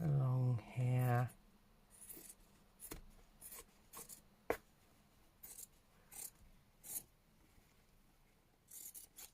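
Card being cut with scissors for a junk journal storage case, with a series of quiet close snips and rustles spaced irregularly after a brief voice.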